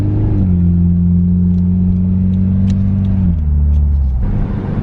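A Mitsubishi Eclipse with a new axle and coil packs cruises on the highway, its engine drone holding steady and loud inside the cabin, then the pitch drops as the revs shift near the end, with no talk.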